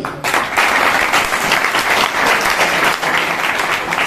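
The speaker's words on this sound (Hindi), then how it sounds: "एक बार सुना तालियां इनके लिए।" Loud, thick crowd applause at an RCM business motivational gathering, a continuous wash of many clapping hands.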